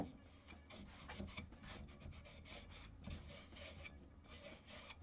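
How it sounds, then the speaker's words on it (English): Someone sands the inside of a rusted metal box by hand, making a continuous rasping scrape in uneven back-and-forth strokes, close and fairly quiet. "just got to sand the inside of that box."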